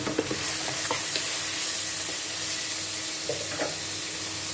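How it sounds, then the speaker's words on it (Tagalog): Seasoned vegetables hiss in a frying pan under a continuous sizzle, while a spatula stirs them with a few scraping clatters near the start and again toward the end. The sound is close and no one talks. "Tapos haluin lang natin."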